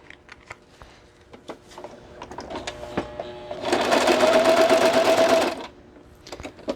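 A sewing machine stitches a handmade deck of playing cards, running in one steady, fairly loud burst of about two seconds, with soft handling clicks and shuffles before and after.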